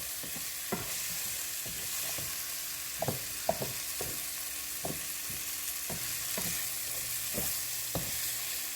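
Beef and onions browning in a pot for a simple beef stew, with a steady low sizzle under repeated scraping and stirring knocks, close and moderately loud, no talking.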